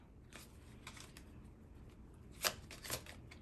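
A deck of tarot cards being shuffled close by: soft, faint riffling and shuffling with a couple of sharper card flicks near the end, quiet and alone without talk.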